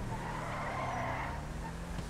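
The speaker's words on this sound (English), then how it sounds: "It's called power sliding." Benefactor Glendale Custom, an all-wheel-drive car, power sliding in GTA Online, with a steady engine roar and sustained tire squeal held loud and close throughout.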